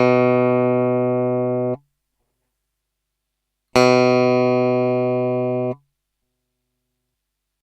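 Two plucked guitar notes on strings fretted with normal finger pressure, each ringing clearly for almost two seconds and then cut short, with a silent gap between them.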